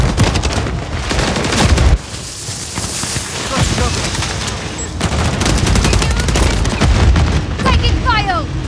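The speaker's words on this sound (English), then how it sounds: "Taking fire!" Rapid bursts of automatic gunfire and explosions from Call of Duty Modern Warfare 3 multiplayer on the Rust map, loud and dense throughout, with game voices calling out over the shooting.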